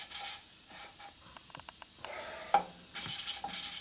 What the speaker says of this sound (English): Put our valve in there, lapping compound on it. Already got it marked for being the front one. And we lap it in.